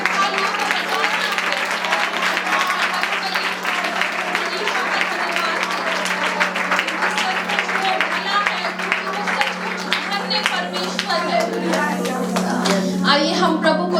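Hand clapping from a church congregation during a prayer service, a dense steady patter of many hands sustained throughout, with voices and a steady hum mixed in.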